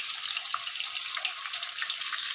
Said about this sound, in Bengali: এই মাছগুলো তুলে আমি সব মাছগুলো ভেজে নেব